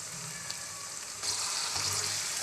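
Beef mince drops into a pan of frying onions and sizzles, a steady close frying hiss that swells noticeably louder partway through as the meat hits the hot oil.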